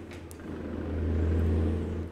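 Truck engine in American Truck Simulator, a low steady diesel drone that swells and holds as the heavy rig accelerates through its gears, heard alone without talk.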